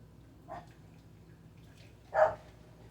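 Two short barks from a dog some distance away, the second louder, separated by quiet with a faint low background hum.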